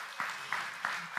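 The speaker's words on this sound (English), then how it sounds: "I feel like that's an applause for your beard." Sparse applause from a small church audience at a Bible study event, just a few distinct claps in a slow, uneven rhythm, fairly close and moderately loud.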